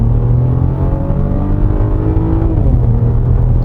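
Turbocharged V6 of a 2018 Maserati Levante revving on a winding road, a loud steady engine drone heard from inside the cabin that climbs slightly in pitch, with no talking over it.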